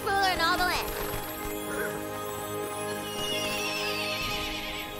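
Queen Butt Stallion, a unicorn in the fantasy video game Tiny Tina's Wonderlands, gives one loud rising whinny at the start, which trails off into a sustained, warbling hum.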